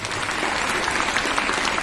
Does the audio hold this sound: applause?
yes